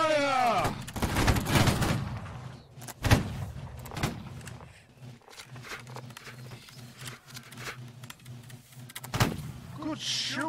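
Line infantry firing a musket volley in the video game Holdfast: Nations at War, with sharp loud cracks and a longer rolling burst of gunfire, while voices shout commands around them.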